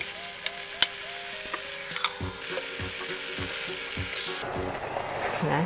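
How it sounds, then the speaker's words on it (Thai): Zucchini, garlic and mushrooms stir-fry in a hot pan, a steady close sizzle broken by regular scraping knocks of a spatula against the pan, growing louder and busier toward the end. "บวบก็หั่นแล้วเรียบร้อยนะคะแล้วก็เห็ดนะคะมาผัดกันเลยค่ะ"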